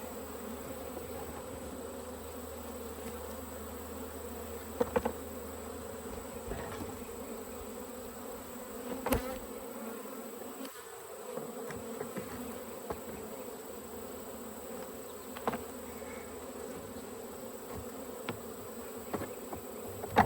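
Honeybees being shaken off nuc frames by a beekeeper, a steady close buzzing hum throughout with occasional knocks and thumps of frames and equipment.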